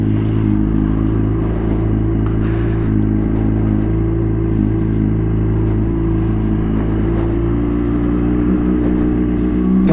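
A Honda CBR 600RR HRC Edition sport motorcycle pulls away with a steady, close engine drone, its low humming tone holding fairly even with a slight rise toward the end.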